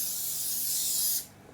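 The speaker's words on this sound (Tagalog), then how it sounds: "So, ito na yung ating oil spray." Canola oil cooking spray hisses onto a baking tray for banana bread in one steady, close burst of about a second before cutting off.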